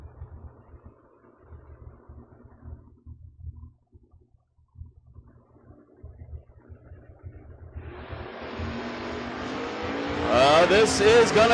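Drag racing cars, including a Camaro, launch at a drag strip event: a low rumbling idle comes first, then a loud, rising engine roar builds sharply over the last few seconds.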